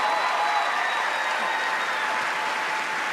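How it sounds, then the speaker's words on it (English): A large television talent show audience applauds a comedian, sustained even clapping from many people filling the hall at a steady moderate level, with no voices standing out. "I, along with the audience, applaud you for that."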